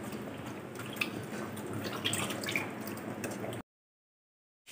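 Water running over fish being washed in a sink, a soft continuous splash with scattered drips and small clinks, fairly close and quiet, cutting to silence near the end.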